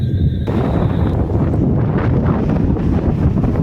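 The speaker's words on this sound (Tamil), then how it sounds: "அவ்வளோ காத்துங்க" Strong cyclone wind roars steadily across a microphone on Kovalam beach along Chennai's ECR coast, a loud, unbroken buffeting rush with sea noise underneath.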